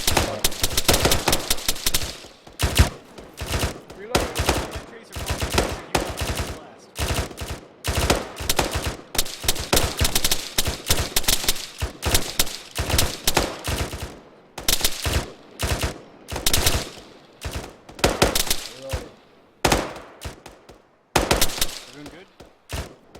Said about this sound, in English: Contact! Rapid fire, suppressing! Rapid fire, rapid fire, rapid fire.